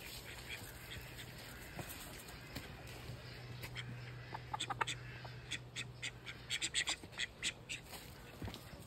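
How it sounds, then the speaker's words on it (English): Ducks in a garden quack in scattered, uneven bursts that grow busier toward the end, heard at moderate distance over a low steady hum. "pass the ducks, just ignore them."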